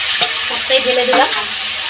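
Egg chicken roll filling frying in a pan, a continuous close sizzle with a couple of stirring scrapes and no talking.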